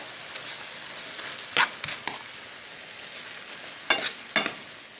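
Garlic sizzling in a pan for chicken cheese steak pastelillos, a soft steady fry under a few sharp stirring scrapes and clatters.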